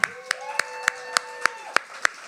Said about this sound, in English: now let's give a big round of applause to our next poet coming up to the mic, Michael